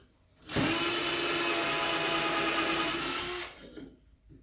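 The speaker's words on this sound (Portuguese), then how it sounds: "agora é que eu vou fazer o rebaixo" Power tool routing a rabbet into marine plywood, a loud steady high-pitched whine with cutting noise that starts abruptly, holds for about three seconds, then winds down.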